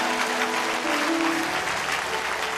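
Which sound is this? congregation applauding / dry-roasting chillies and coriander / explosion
congregation applauding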